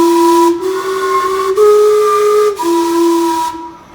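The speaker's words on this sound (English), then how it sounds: "here's the famous steam clock I was talking about earlier" The Gastown steam clock in Vancouver, run by steam and electricity, sounds its loud steam whistles in a close, sustained chime of four pitched tones, each breathy note sliding into the next with hissing breaks between.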